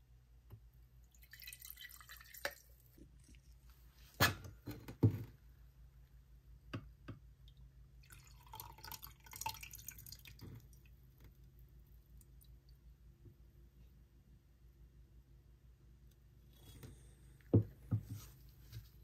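Metal being rinsed with water after its zinc content was dissolved away in acid while refining silver from ore, giving scattered drips, taps and splashes with quiet pauses between them and no talk.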